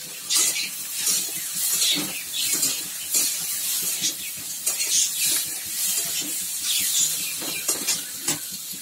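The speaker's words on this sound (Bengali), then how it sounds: "এবার ভালো করে কষে মাথাটাকে সব ওই মশলাগুলো দিয়ে ভালো করে কষিয়ে নিচ্ছি" A fish head fries with spices in a pan, giving a steady close sizzle broken by frequent scraping stir strokes throughout.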